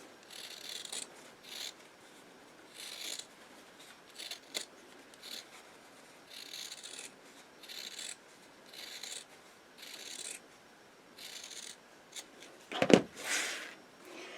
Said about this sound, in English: And you can cut right through the zipper.